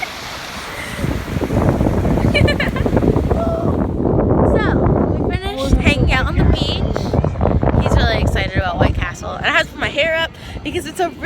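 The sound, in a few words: strong wind at the beach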